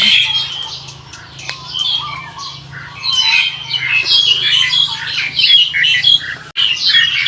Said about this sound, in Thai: นกนี่มากินทุกเสาเลยเสียงดัง